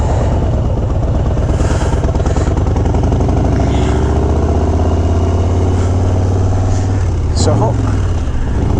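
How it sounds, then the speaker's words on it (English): Vehicle engine after a missed second gear, roaring loud and close as it revs up and holds near the rev limiter, a brief word spoken at the start. "I don't always miss second gear. When I do, I make sure to rev that shit out of it all the way to the rev limiter"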